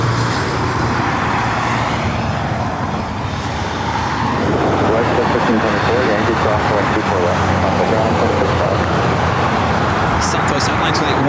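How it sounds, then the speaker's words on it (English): A Delta Boeing 757 jet airliner roars steadily at LAX, a loud continuous engine rumble that shifts in pitch midway, with traffic noise around it and talk over it. "Looks like that Delta 757 heading to Minneapolis, actually heading to the south side."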